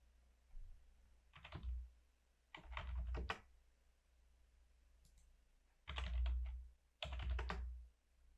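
Bursts of quiet, close keystrokes on a computer keyboard as values are typed into CAD software, four short clusters of rapid clicks separated by silence, with no talking.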